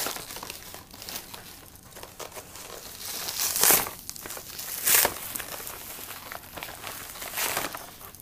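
Plastic packaging from an AliExpress order crinkles and tears as it is opened up close, with a few louder rustling bursts amid steady handling noise.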